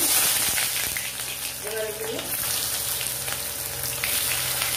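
Onions cut into thin torn slices sizzle in mustard oil in a kadai, a steady close-up frying hiss that runs the whole time, with a brief spoken word partway through.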